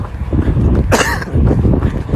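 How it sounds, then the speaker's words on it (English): A person's short, close cough bursts out once, sharp and harsh, between quieter stretches of room noise. "I do have a wee bit of a cough."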